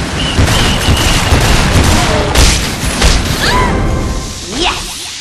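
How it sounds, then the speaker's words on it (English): In the Lollipop Chainsaw video game, the Chainsaw Blaster weapon fires in a dense barrage of booming blasts and whooshing shots over constant loud game noise, with a voice briefly heard. "Chainsaw Blaster!"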